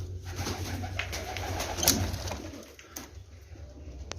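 Pigeons coo softly and steadily in a loft with red and yellow breeding birds, low repeated calls close by, with faint rustling and a few brief sharp noises over the top.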